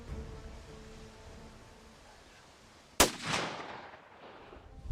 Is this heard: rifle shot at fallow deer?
yes